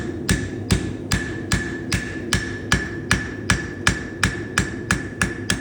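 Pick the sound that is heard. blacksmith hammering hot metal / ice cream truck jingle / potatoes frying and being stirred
blacksmith hammering hot metal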